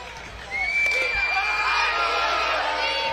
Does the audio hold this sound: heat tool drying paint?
no